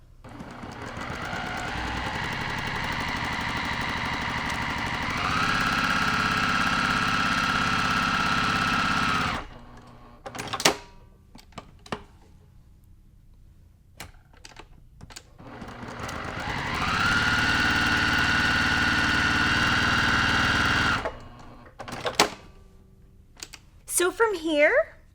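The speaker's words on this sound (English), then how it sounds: "I'm going to be using an open toe foot, and we're just going to sew on those lines." Sewing machine with an open toe foot stitching along marked lines on Moda quilt fabric, running in two steady bursts of several seconds each with a rising whir, separated by quiet handling clicks and rustles.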